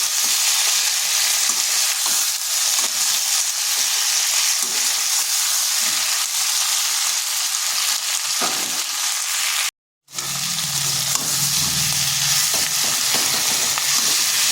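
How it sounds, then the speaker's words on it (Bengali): Tomatoes and cauliflower fry in a pan, a loud, dense, steady sizzle with occasional soft stirring scrapes, one brief gap, and no voices. "আর এখানে দিয়েছি 2টো টমেটো। সবগুলো ভালোভাবে মিশিয়ে নিচ্ছি।"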